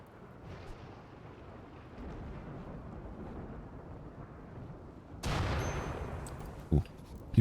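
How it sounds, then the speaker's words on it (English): In the colony-building game Rimworld, a lightning strike lands with a sudden loud crack followed by rolling thunder, rising sharply out of quiet ambient noise, with a couple of sharp thumps trailing after it. "People need to stop almost getting struck by lightning."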